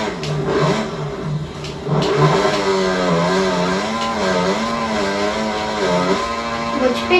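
A small motorbike revs hard during a motocross ride, its mid-pitched engine note rising and falling in steady waves throughout, close and loud, with excited voices talking over it.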